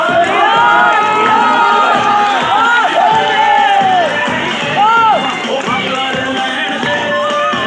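Crowd shouting and cheering with clapping at a natural bodybuilding contest, lively and continuous with rising yells and whoops, voices calling out over the noise.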